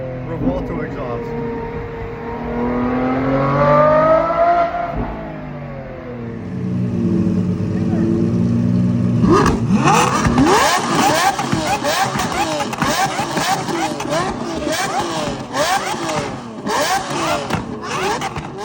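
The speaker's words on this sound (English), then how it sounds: "Revuelto exhaust." A car engine revs hard in sharp, repeated bursts, loud and aggressive, after a stretch of talking and a rising engine note.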